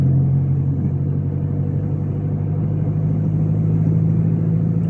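Steady road noise and a low engine rumble from a car cruising along a paved road toward a lake in the Braslav region, loud and continuous throughout with no talking.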